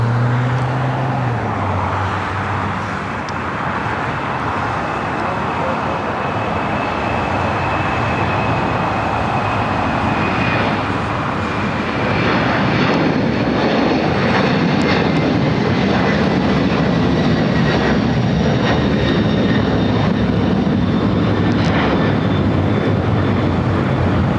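An airliner taxis at Los Angeles International Airport, its steady jet engine roar loud and continuous, with a faint high whine running through and a low rumble swelling near the end.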